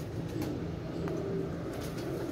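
Low, rolling pigeon coos sit faintly in a noisy, steady background, repeating through the short stretch with no voices.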